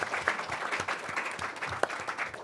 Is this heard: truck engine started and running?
no